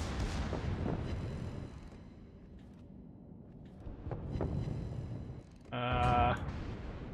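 Secondary battery guns fire in World of Warships naval combat, producing several distant booming volleys that fade out between bursts, with a sharp tonal in-game alert near the end.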